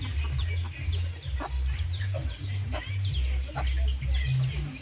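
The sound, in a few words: chickens clucking on a farm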